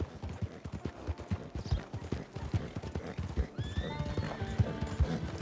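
Horse hooves clip-clop steadily and close in the Red Dead Redemption video game, with a horse whinnying near the end and a soft voice briefly under the rhythm.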